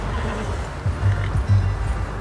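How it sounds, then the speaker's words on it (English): A horse whinnies in the video game Red Dead Redemption 2, two short neighs ringing out over a low rumbling game background. "How's that new horse?"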